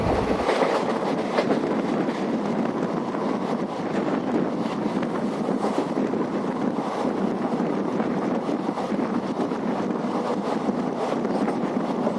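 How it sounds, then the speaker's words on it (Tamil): Kacheguda–Puducherry Express travelling between Perambur and Puducherry, heard from inside as a steady, loud rumble of wheels on rails with faint clickety-clack and wind noise throughout, no talking. "நம்ம காச்சிகுடாலேருந்து பாண்டிச்சேரி வரையும் போகக்கூடிய காச்சிகுடா எக்ஸ்பிரஸில் நம்ம பெரம்பூர்லேருந்து பாண்டிச்சேரி வரையும் ட்ராவல் பண்ணிகிட்டு இருக்கோம்"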